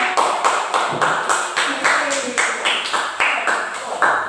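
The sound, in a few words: classroom applause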